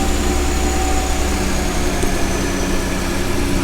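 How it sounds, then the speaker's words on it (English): A Ford F-150 with the 3.5 EcoBoost engine and resonator delete, its turbos spooling as it revs. A steady, loud, dense engine roar holds through the whole stretch, close by and with no talking. "Hear the turbos"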